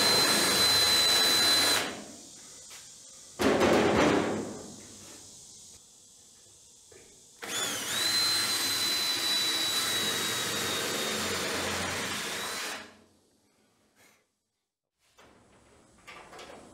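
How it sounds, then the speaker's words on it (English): A loud, high whining drill bores a hole in rusty metal in two long bursts and a short one, with quiet pauses and faint clatter between them. "and drill a hole here"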